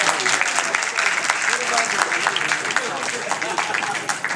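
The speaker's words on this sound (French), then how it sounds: "Ça mérite au moins les applaudissements" Audience applause at a comedy show, a sustained, dense wash of clapping that carries steadily across the whole stretch, with crowd noise mixed in.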